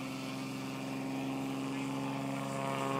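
Propeller engine of a STOL airplane at a Sodbusters short-takeoff competition spooling up, a buzzing tonal drone that grows steadily louder and rises as power builds.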